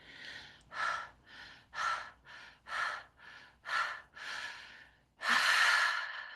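Deep connected breathing in a guided session, about ten quick rhythmic inhales and exhales in a steady pulse, close and soft, ending in one longer, stronger breath.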